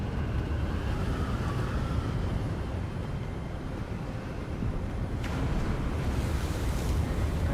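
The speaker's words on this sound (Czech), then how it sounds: "Jak tady fouká, ale?" In the video game Hogwarts Legacy, wind blows hard across an outdoor area as a steady, loud, gusting rush that fills the whole stretch without letting up.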